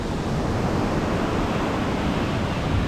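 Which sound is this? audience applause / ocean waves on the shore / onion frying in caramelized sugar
ocean waves on the shore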